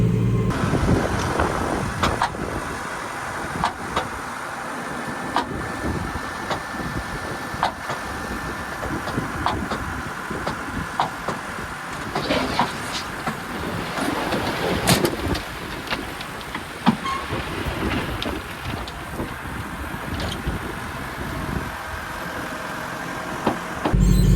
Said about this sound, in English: this tractor has good tires on it, so it's able to dig in and not spin on the surface